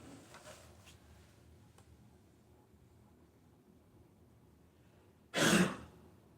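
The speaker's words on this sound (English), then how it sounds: "I want to cough right in the camera" One brief, forceful cough bursts out near the end after several seconds of quiet room hiss, close to the microphone.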